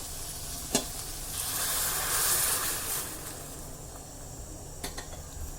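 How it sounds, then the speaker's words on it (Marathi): Close, loud sizzling hiss that swells as hot water is poured into a spicy crab curry in a hot pan, then settles into steady frying crackle, with a couple of sharp utensil taps. "आता यामध्ये मी गरम करून ठेवलेलं पाणी घालत आहे"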